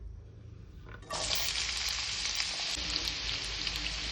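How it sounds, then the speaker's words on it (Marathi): Chopped onion lands in hot oil and frying starts at once, turning a quiet background into a loud, dense, steady sizzle that carries on close by with no speech. "कांदा मस्त फ्राय करून घेऊया"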